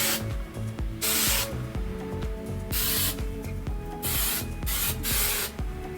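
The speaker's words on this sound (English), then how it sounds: "I'm just going to hairspray that." Hairspray misted onto a short prom hairstyle in several quick, loud hissing bursts separated by pauses, with faint rhythmic clicking underneath.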